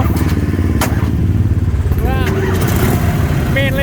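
A motorcycle with a 4-speed gearbox pulls away in gear on an outing, its engine rumbling steadily and close throughout, with a few thuds and clatters plus brief whistling chirps near the end.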